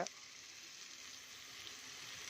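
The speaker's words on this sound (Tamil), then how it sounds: "இந்த மசாலா நல்லா எண்ணெயோடு சேர்த்து நல்லா வறுப்பறட்டும்" Masala steadily sizzling and frying in oil for an eggplant poriyal, a continuous hiss close up with a faint crackle, and no talking.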